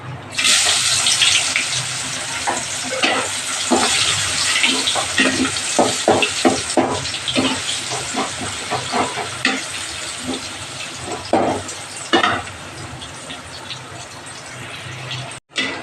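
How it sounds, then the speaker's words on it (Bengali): Chopped onion dropped into hot oil with cumin seeds, a steady loud sizzle and crackle with repeated stirring scrapes throughout, close and continuous, no voices. "জিরে ফোড়ন দিয়ে দিলাম এবার আমি এই যে পেঁয়াজ কুচিটা দিয়ে দেবো"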